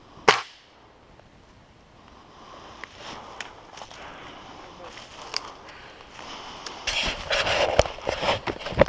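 An airsoft gun fires during target practice with a sharp snap, followed by scattered faint clicks and rustling, with soft movement sounds building toward the end.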